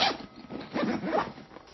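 A full-length, edge-to-edge zipper on a pilot's travel bag is pulled open in one close, loud, ragged rasp lasting under two seconds.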